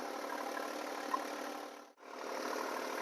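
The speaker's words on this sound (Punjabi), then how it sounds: "ਟਰੈਕਟਰ ਦੀ ਕੋਈ ਇਹਨਾਂ ਲੋਡ ਨਹੀਂ ਲੈ ਰਿਹਾ ਬਿਲਕੁਲ ਟਕਾਈ ਨਾਲ ਚੱਲ ਰਿਹਾ" A tractor engine runs steadily under no load, a faint even hum that dips briefly near the midpoint before resuming, with no talk.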